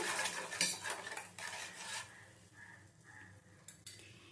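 Ingredients for steamed eggplant, including turmeric powder and a little sugar, are stirred together in a bowl, giving soft, quiet scraping and clinking strokes with a few louder knocks against the bowl.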